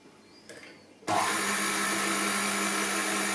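Electric hand mixer switching on at speed 1 to stir cake batter, a sudden steady motor whir with a buzzing hum that continues evenly to the end.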